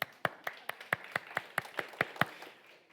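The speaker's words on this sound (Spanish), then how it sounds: "un aplauso fuerte para el hermano" Church congregation applauding, about ten sharp distinct claps in a steady rhythm over a quiet room, fairly close and moderately loud, fading out at the end.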